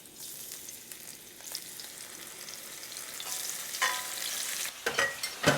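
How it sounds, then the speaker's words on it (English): Shrimp sizzle and crackle as they are stir-fried for restaurant-style pad thai, a steady frying hiss with louder bursts of crackling near the end as they are tossed, close and with no talking. "it's time to go ahead and add in the shrimp"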